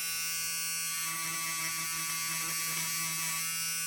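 A Peggy's Stitch Eraser cutting embroidery bobbin threads gives off a thin, steady electric buzz, quiet and close, that runs without a break.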